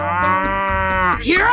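Cartoon cow in a 3D animal slide video game gives one long, loud, close moo that rises in pitch at the end, standing alone without talk.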